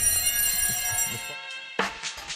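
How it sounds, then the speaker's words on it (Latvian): An indoor fire alarm sounds with a sustained electronic ringing tone that cuts off after about a second and a half, followed by scattered rustling noises. "Mēs izraisījām trauksmi."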